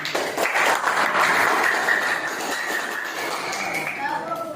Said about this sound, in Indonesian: Jadi tepuk tangan untuk temannya.